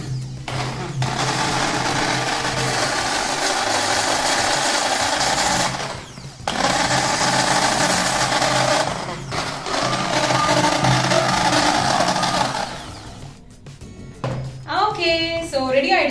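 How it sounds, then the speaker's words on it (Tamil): A blender whirs as it mixes homemade face cream, running loud and continuous in long bursts with brief pauses between them, and a voice joins near the end. "இது இப்போ நம்ம பிளெண்டர் போட போறோம்."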